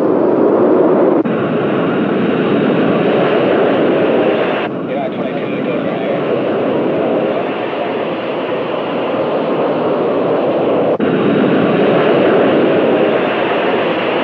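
A 1962 airliner rolls for takeoff on a Los Angeles runway, a loud, steady jet roar with a few abrupt shifts in level. A voice speaks over it.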